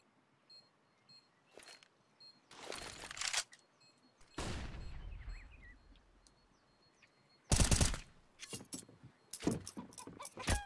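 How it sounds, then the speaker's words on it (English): Gunfire in the video game CS:GO during an ESEA Spring 2022 match, short sharp bursts of shots separated by near-silent gaps, some single cracks and some rapid volleys, fairly close. "Daps gonna step out from the mid cubby to headshot Turtle there upper mid"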